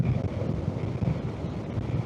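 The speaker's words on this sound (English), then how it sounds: "A lot of wind hitting my face, my bare face right now." Heavy wind buffets a rider's bare face and the microphone while riding a motorbike with the helmet visor open, a loud, continuous low rumble and roar with no talk.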